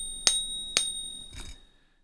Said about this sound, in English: they all make the exact same sound